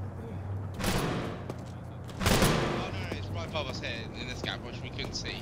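Video game gunfire comes as two loud bursts of shots with a crackling rattle between them, overlaid by people talking and shouting.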